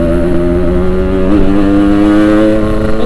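Yamaha RX King two-stroke motorcycle engine revving loud and close, a steady throaty drone with strong harmonics and slight pitch swells throughout, riding in rain.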